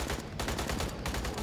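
Bursts of gunfire from the Aliens: Colonial Marines video game, a dense rattling volley filling the whole moment with two brief dips, loud and continuous, no talk.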